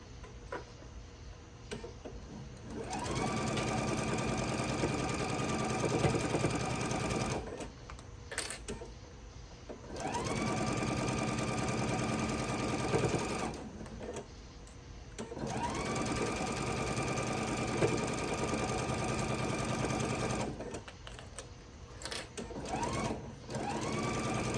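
A sewing machine stitches a Christmas tree fabric table runner in three long runs, each a fast, even mechanical whir separated by short quiet pauses, heard close and fairly soft.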